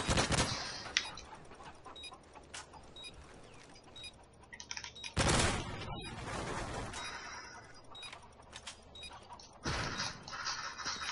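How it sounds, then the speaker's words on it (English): Bombs landing in a Call of Duty Search and Destroy match on the Seatown map: two heavy, broadband blasts erupt amid clicking and ticking game sounds, loud and fairly close. "It's bombs landing on that side."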